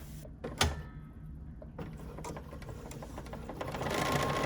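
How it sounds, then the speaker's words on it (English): A BERNINA sewing machine stitches with an edgestitch foot lowered, a continuous close mechanical hum with faint rhythmic ticking that swells slightly toward the end. "I'm going to lower my presser foot down, and now I'm just going to stitch"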